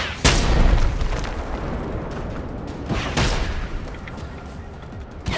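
A robot firing rockets in Generation Zero, with loud booming blasts near the start and around the middle over a constant rumbling din of gunfire and explosions.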